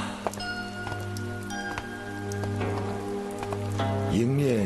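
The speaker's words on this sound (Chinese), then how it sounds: "下雨了" Rain falling steadily in a period Chinese drama scene, a soft constant wash with scattered drops, underneath a low steady tone and brief sounds; a voice briefly begins singing near the end.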